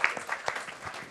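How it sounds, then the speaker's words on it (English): A short burst of audience applause, scattered claps pattering at moderate volume for about a second. "he doesn't like it when we clap for him"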